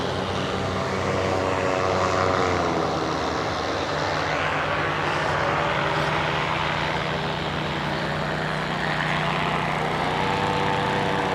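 A paramotor engine runs steadily in flight, a loud continuous propeller drone with a buzzing engine tone that holds level throughout without pause.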